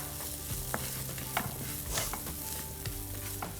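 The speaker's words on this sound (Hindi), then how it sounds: "अब दाल को भूंज लेंगे करीब 3 से 4 मिनट तक।" Ground moong dal stirred and dry-roasting in a pan for kachori filling, giving a steady soft sizzle with repeated scraping strokes of a spoon throughout, no voices.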